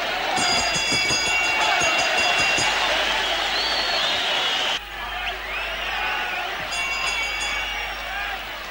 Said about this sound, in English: The crowd begins to come alive here at the National Tennis Center in Melbourne.